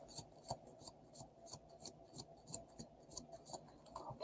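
Tarot cards being messily shuffled during a live reading, a close, quiet series of rhythmic papery riffles and snaps repeating about every third of a second.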